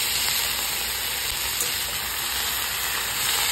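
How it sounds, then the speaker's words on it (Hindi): Fresh spinach sizzles steadily in hot oil in a pan while being mixed, a continuous close hiss with faint stirring, no talk. "ये देखिए मैं अपना सारा पालक ऐड कर देती हूँ, अच्छे से मिक्स कर दूंगी।"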